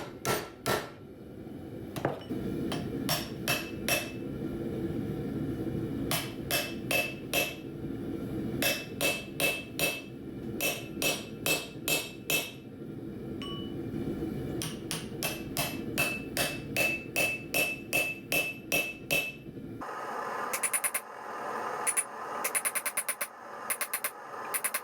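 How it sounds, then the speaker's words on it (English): A steel chisel is hammered on an anvil to split rebar tong jaws, giving a long series of loud, sharp metallic strikes in rhythmic bursts with short pauses between groups, close and ringing, with no talk. "took it over to the anvil and finished separating it there"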